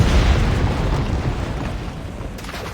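Ship cannon fire in the naval combat of Assassin's Creed IV: Black Flag, a loud booming blast at the start that rolls off into a long rumbling decay, no speech.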